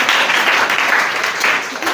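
A group of students in a spoken English class claps together, a loud, dense patter of applause throughout, with voices mixed in.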